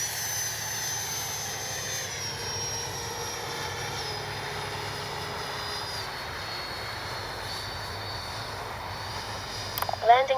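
An FMS Integral 80mm electric ducted-fan RC jet flies low past, a steady whining turbine hiss that holds at moderate distance for several seconds before a brief louder burst near the end.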